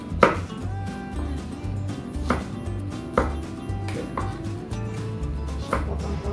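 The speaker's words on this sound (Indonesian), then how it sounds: "Kemudian bawang putihnya saya mau potong besar saja seperti ini" A knife chops garlic and shallots on a board with a series of sharp, distinct chops spaced about a second apart. Steady background music plays underneath.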